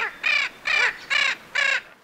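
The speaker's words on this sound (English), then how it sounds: "the most characteristic feature of these macaws is their voice, a short and raspy "Grr!"" A Spix's macaw, the little blue macaw, gives four short raspy growling calls in an even rhythm, each harsh and close against a quiet background.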